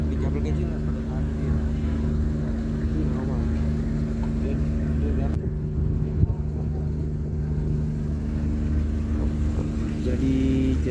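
A small boat engine drones steadily and loudly up close beside a storm-hit ferry with a broken engine, helping it to dock, a low continuous rumble with faint background voices.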